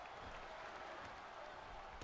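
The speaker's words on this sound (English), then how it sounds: "Would you listen to this crowd show their appreciation for these amazing competitors?" Crowd applause in the WWE 13 wrestling video game, a steady distant wash of clapping and cheering at low volume throughout.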